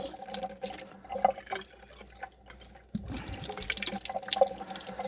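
A running tap fills a guinea pig's water with fresh water, a close, soft stream with drips that grows fuller and louder after a few seconds.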